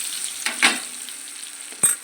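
Mustard seeds, cumin, onion and green chili tempering in hot oil for a mutton curry, a soft steady sizzle broken by a couple of sharp spatters and stirring scrapes.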